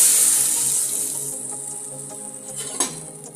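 Besan kadhi batter poured slowly into a kadhai with the gas switched off, a steady wet hiss and gentle pour that fades over a few seconds, with one small splash near the end and no voices.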